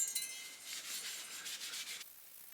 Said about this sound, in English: now I'm going to give it a polish